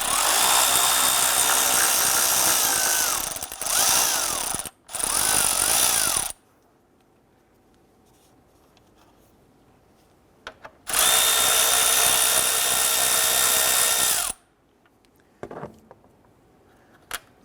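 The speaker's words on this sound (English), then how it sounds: "Let's go ahead and loosen and remove those." Two bursts of a power tool loosening 10mm bolts on a 2012-2017 Toyota Camry during an engine mount job, loud high whirring runs a few seconds each with quiet gaps and small clicks between.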